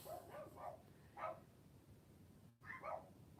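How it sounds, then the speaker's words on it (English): Puppies bark indoors, several faint yips in short bursts, a pause, then another quick cluster, with no talk over them. "The puppies agree."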